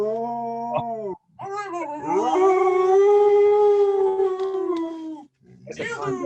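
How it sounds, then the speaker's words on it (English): A dog howls in long, wavering, sung tones close by, rising and sliding through a sustained wail between shorter yips, with a voice briefly audible at the start. "I have a singing dog."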